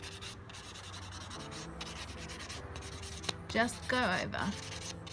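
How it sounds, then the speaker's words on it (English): A buffing block rubs lightly over the surface of a fingernail in soft, scratchy strokes, close and quiet, while someone talks over it. "I need to buff the surface of my nail bed"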